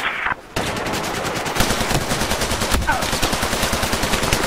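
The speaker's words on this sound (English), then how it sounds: "With this LMG." An M240B light machine gun in Battlefield 4 fires long, rapid automatic bursts, loud and close, with steady sharp reports after a brief quiet gap near the start.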